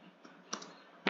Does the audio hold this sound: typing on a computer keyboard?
yes